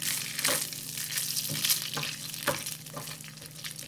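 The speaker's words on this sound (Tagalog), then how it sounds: "Lutuin muna natin yung sobrang meatloaf." Extra meatloaf fries in a pan with a bright, steady sizzle, punctuated by repeated scraping stirs about every half second, close and fairly loud with no voices.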